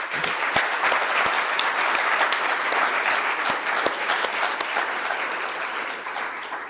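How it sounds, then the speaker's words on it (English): Sustained audience applause at a conference closing plenary, a full room clapping steadily with distinct nearby claps, easing off slightly toward the end. "Applause."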